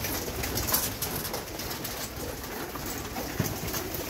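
Pigeons in a home pigeon house, with eggs and nesting birds, coo softly and continuously under broad background noise, with a brief sharper sound near the end.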